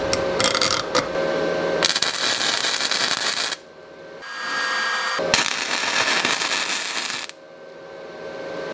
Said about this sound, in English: And then I'll probably weld it together here somewhere.